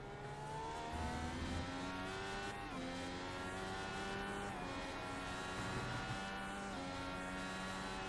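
An Indycar IR-18 with a Cosworth engine screams along Road America in a racing video game, its high revving engine held steady with gear shifts and pitch sweeps, loud and continuous without talk.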